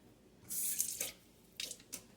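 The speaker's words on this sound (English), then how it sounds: "I'm going to rinse this towel." Towel rinsed under a running sink tap: two short bursts of splashing water, the first longer, separated by quieter drips, close and fairly faint, with no talk.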